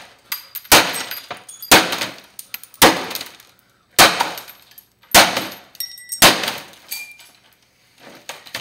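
A laptop is smashed with a hatchet that has a hammer on its back, giving six or seven loud, sharp cracking impacts at irregular one-second intervals, each with crunching, breaking debris and glassy rattles trailing off.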